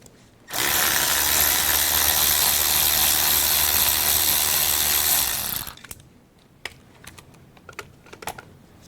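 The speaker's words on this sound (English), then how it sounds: "I'm undoing all the screws that hold the fuel filter on the intake manifold" A power tool whirs loudly and continuously for about five seconds while undoing the screws holding the fuel filter on a Mercedes Sprinter van's intake manifold, then cuts out, followed by scattered small metallic clicks and taps.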